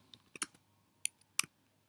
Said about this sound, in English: I'm using a quick method of typing.